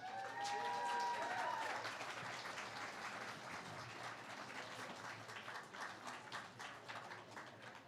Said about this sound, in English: Big round of applause for Amy Perlich.